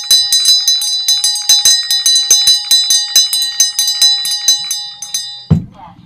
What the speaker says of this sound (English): With the ringing of this bell, we lift the veil twixt heaven and hell.